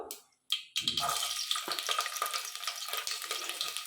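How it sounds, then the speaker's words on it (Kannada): Hot oil spluttering and crackling in a pan as garlic is dropped in for mushroom pulao, with a burst of sharp pops settling into a steady close sizzle. "ಇವಾಗ ಸೌಂಡ್ ಬರ್ತಾ ಇದೆ ಚಟಪಟ ಅಂತ"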